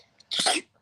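A single short, sharp sneeze bursts out during an evening broadcast, loud and close, with a faint breath just before it and no talk.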